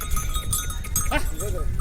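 A flock of sheep moving along near Longewala in the Jaisalmer desert, with a short bleat and a soft bell-like clink over a steady shuffling murmur, and a voice faintly in the background.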